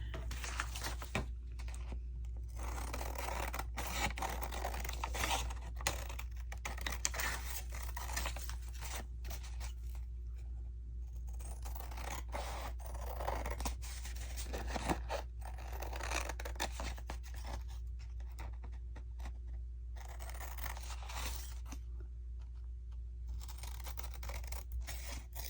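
Scissors cutting a picture out of a large glossy garden book, a steady run of close, crisp snips and paper rustles that continues without talk.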